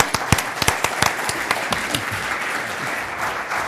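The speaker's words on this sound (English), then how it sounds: "Big round of applause for Joel." An audience at a live startup talk-show taping claps for a guest coming on stage, a loud dense burst of applause with sharp individual claps that gradually thins and softens toward the end.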